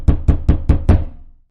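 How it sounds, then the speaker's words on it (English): Five rapid, evenly spaced knocks on a door sound close and loud, each a hollow thud, with the last one fading into a short echo before silence. "rapid knocking echoed through the door"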